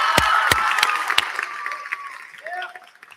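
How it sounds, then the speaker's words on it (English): At a high school graduation, a crowd breaks into applause and cheering for a teacher, with a few loud sharp claps up front that thin out into a fading patter while a voice speaks over the tail. "give him a round of applause"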